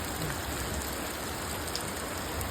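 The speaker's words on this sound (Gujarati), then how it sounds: "ચાલુ થઈ ગયા વરસાદ" Steady first monsoon rain falling in a Botad village at night, a dense, even hiss of drops on surfaces that holds constant and close throughout, with no voices.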